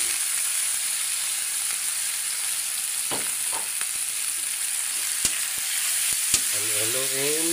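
Dried anchovies (dilis) fry in a pan with a steady, dense sizzle and hiss, punctuated by a few sharp clinks and scrapes of stirring, close and continuous.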